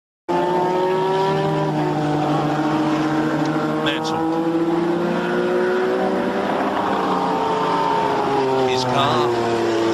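1986 Formula One race cars run in qualifying at Brands Hatch, their high-revving engines wailing continuously with rising and falling pitch as they pass, under steady commentary.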